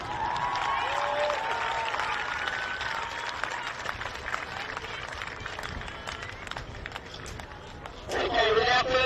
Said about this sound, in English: So a huge cheer for your teachers and staff